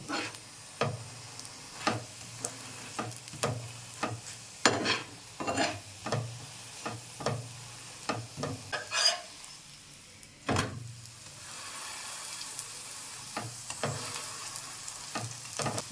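A cauliflower-stuffed paratha fries in oil on a pan, a steady sizzle broken by repeated sharp crackles and spatters as it is pressed down, close and fairly loud, with no one talking.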